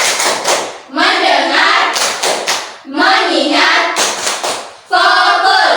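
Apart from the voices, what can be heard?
classroom 'tepuk fokus' rhythmic focus clapping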